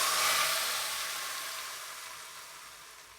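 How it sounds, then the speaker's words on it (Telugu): Hot tempering hits spinach dal and sets off a burst of loud hissing sizzle that steadily fades over a few seconds, close up and alone. "ఇప్పుడు ఈ పప్పులోకి మనం పెట్టుకున్న తాలింపును యాడ్ చేద్దాం."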